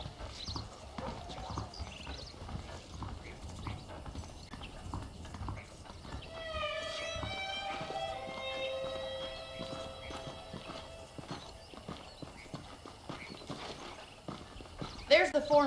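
Horse hooves clip-clop at a steady walking rhythm in the western video game Red Dead Redemption, close and continuous, with a horse's whinny partway through and characters talking over it.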